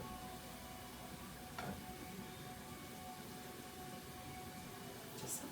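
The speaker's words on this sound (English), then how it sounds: "I fry them in the same bacon grease" Onions frying in bacon grease give a faint, steady sizzle throughout, with a couple of soft stirring scrapes and no voices.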